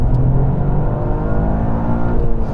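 A Toyota GR Yaris engine pulls hard in second gear, a loud, close, continuous rising drone with dense harmonics and no break or shift.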